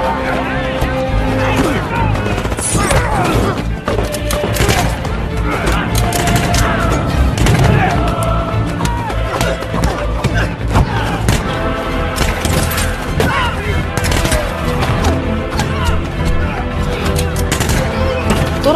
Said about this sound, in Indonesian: Tak menyerah, Turup terus menembaki musuh yang tersisa.